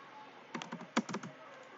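A few crisp computer keyboard presses while working in AutoCAD, a quick cluster of close clicks with one heavier keystroke in the middle, set against a quiet room.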